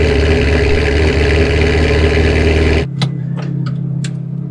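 A Ferrari F430 engine runs loud and steady with a deep, even drone, then cuts abruptly to near quiet, leaving a low hum and a few faint clicks and ticks. No one speaks.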